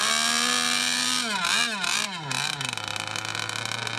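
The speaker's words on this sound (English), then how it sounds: "Those pipes sound nasty" A motorcycle engine revs hard through loud aftermarket exhaust pipes, rising and falling in pitch a few times before settling into a steady throaty drone, close and loud with no talking.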